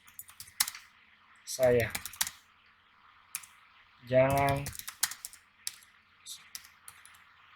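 Computer keyboard typing while writing Arduino Uno simulator code, a scatter of light clicks spread through the clip with two short bursts of speech breaking in between them.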